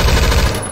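A Beowulf ECR rifle fires a loud, fast burst in the Roblox shooter Phantom Forces. Rapid shots run together into a dense rattle that cuts off after less than a second.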